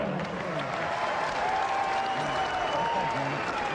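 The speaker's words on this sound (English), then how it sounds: "Have a nice round of applause for both of these fighters." A boxing crowd at a pro debut bout applauds both fighters, a continuous roar of clapping and crowd noise filling the arena, steady throughout with faint voices mixed in.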